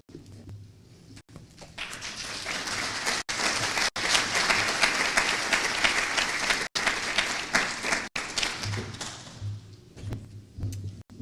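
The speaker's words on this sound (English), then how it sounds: "Just one more round of applause for these very brave women" A conference audience breaks into applause that swells from a quiet start into dense, steady clapping, then fades toward the end as a few louder claps and thumps stand out.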